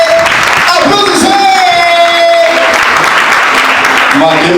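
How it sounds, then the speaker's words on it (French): Wedding guests at a Haitian wedding in Brazil clap and cheer loudly and densely, with whoops and an amplified voice rising through the crowd noise. "Applaudissez!"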